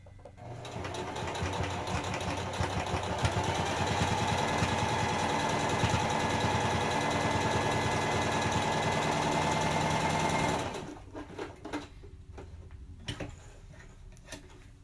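A sewing machine top-stitches a fabric face mask in a fast steady mechanical whir and rattle lasting about ten seconds, close and loud, then stops, leaving quiet handling sounds.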